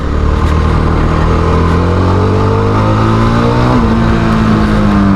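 A Yezdi Scrambler motorcycle ridden through a field roars loud and close, its engine note rising steadily as it accelerates without a break.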